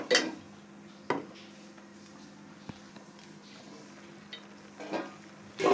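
A lid clanks onto a cooking pot of vegetable curry with small shrimp paste, a few sharp metallic clinks spaced apart over a low, steady simmer.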